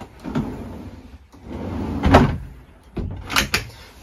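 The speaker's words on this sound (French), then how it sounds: "Et vous retrouvez en bas plusieurs tiroirs" Kitchen drawers and cupboards in a Challenger 260 motorhome opening and shutting, a string of sliding rumbles and sharp closing knocks, one louder thud midway and two quick clacks near the end.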